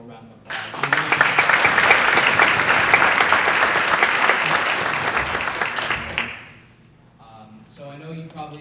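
A room at a board meeting breaks into loud, sustained applause for robotics team members, a thick burst of clapping lasting several seconds before fading, followed by a few voices.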